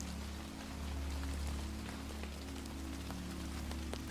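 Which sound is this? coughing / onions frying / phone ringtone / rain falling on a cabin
rain falling on a cabin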